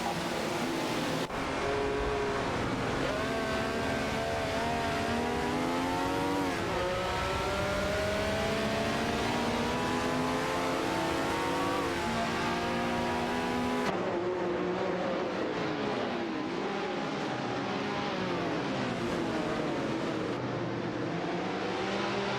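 Race cars in a racing video game, including a Ferrari 312 PB, scream continuously as engine pitch climbs and drops through gear changes, with overlapping cars passing close and loud.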